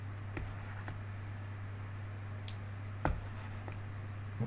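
A marker or chalk scratches on a board during a math lecture on domain and range, making a few faint, scattered taps and short strokes over a steady low hum, with no voices.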